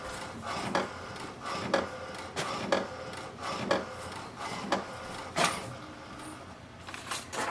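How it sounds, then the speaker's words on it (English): An HP DeskJet 2931 inkjet printer runs an alignment page, its print carriage sweeping back and forth in a steady rhythm of repeated passes, close and moderately loud, with no talking. "The printer will print the alignment page."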